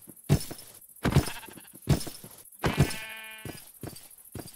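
Sheep in the Minecraft video game bleat four times in a loud, evenly spaced series, each call a short wavering cry with brief gaps between, the last stretched longer with a buzzy tremolo.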